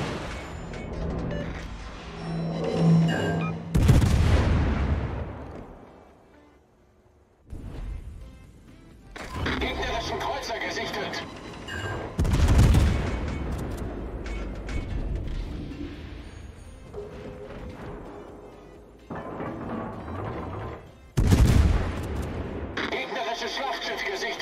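Video game gunfire cracks and booms in heavy, repeated bursts over several seconds, loud and dense, while someone talks over much of the firing.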